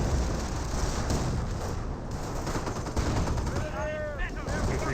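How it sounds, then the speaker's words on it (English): Artillery fire in the Company of Heroes 1 strategy game, with dense bursts of distant gunfire and explosions rumbling together in a continuous battle din, with a few whistling tones near the end. "I hear artillery running on in as well."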